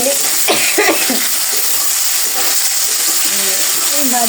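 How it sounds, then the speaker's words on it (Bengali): Vegetables fry in a wok with a constant, fairly loud steamy hiss, while voices murmur faintly through parts of it. "তরকারি ভাজি"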